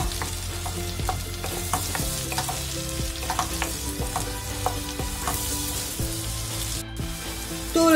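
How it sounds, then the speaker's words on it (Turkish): Onions sizzle steadily in melted butter in a pan while a utensil stirs and scrapes at a loose, regular pace. "Bunları bir güzel kavuruyorum arkadaşlar."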